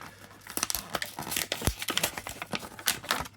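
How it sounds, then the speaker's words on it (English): Cardboard being sliced and torn with the corner of a box, a dense run of crinkling, scraping and tearing bursts at close range with no talking. "I'm going to use the corner of the box to cut this cardboard"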